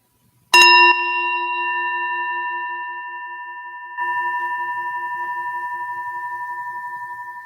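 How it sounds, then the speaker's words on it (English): A meditation bell is struck once and rings with a long, pure, slowly fading tone; a second soft strike at about four seconds renews the shimmering hum. "The next tap of the bell"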